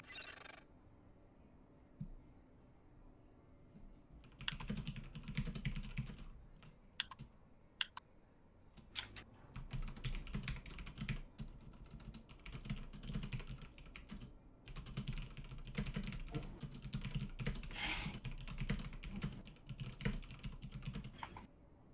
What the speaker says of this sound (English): My keyboard is just loud.